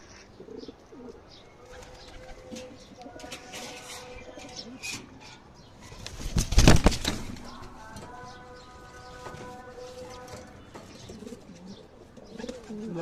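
Racing pigeons at a market coo repeatedly, soft throaty calls clustering near and overlapping, with a louder burst of flapping or scuffling midway and faint chirps in the background.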